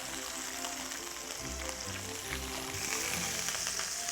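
Wild Alaskan salmon pan frying in a creamy butter sauce gives off a steady, close, loud sizzle that crackles and spits throughout, with no one talking.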